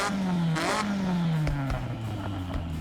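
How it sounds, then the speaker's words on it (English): A race car engine with a race exhaust in the video game Forza Horizon revs and drops repeatedly, its exhaust burbling and crackling in short bursts, loud and close with no talking. "this race exhaust is going to give us like the gurgles and stuff"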